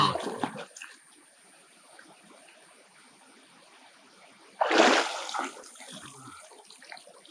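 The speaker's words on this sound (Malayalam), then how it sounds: "ഞാനങ്ങ് മുങ്ങി കുളിക്കാൻ" A person dips and splashes in cold, clear stream water, with a splash at the start and a louder surge of churning water near the end over a soft, steady background flow.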